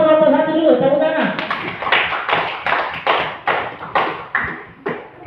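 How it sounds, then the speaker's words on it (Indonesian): A classroom of students claps for the first group after a teacher's scoring, a burst of dense hand claps following a brief stretch of speech, then settling into rhythmic pulsing claps that fade slightly. "Tepuk tangan untuk kelompok 1 dulu, tepuk tangan."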